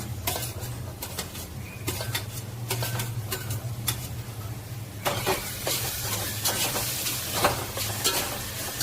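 Golden-fried onion with five or six finely chopped tomatoes sautéing in a pan: a soft, steady sizzle with scattered scraping and tapping from stirring, growing fuller and busier partway through.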